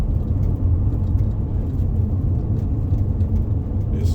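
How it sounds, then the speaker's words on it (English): A car cruises along Highway 380 in New Mexico toward the Trinity test site, with a steady low road rumble and tire whir from inside the cabin throughout. "We're driving towards the Trinity test site."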